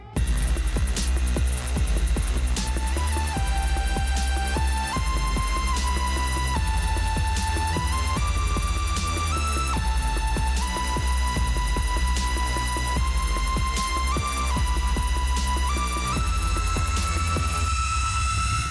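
A carbide end mill cuts metal for a knife pocket clip, giving off a steady, loud machining whine and hum whose pitch shifts in steps as the cut goes on, with no voices.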